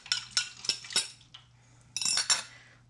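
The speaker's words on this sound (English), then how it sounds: "It's okay because the whisk will get the rest of it." A whisk clinking against a metal pan while mixing flour and water into giblet gravy, several quick rhythmic metallic taps in a burst, a brief pause, then another short flurry, close up with a low hum underneath.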